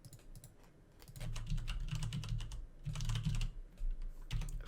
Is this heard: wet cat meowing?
no